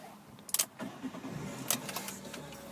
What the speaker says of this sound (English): just getting the vehicle started